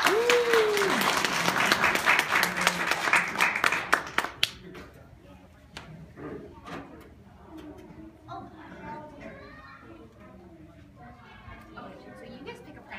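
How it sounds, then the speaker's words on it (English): Children and adults give a short, lively round of applause for a girl who held a Madagascar hissing cockroach; the clapping fades after about four seconds, leaving quiet room sounds and light talk. "Can everyone give Kylie a big round of applause?"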